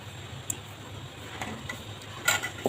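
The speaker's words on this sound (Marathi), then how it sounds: "चांगला हलवून घ्यायचा." A spoon scrapes and stirs green masala in a pan for cluster bean curry, making faint, intermittent clinks and scrapes against the metal over a soft background hiss.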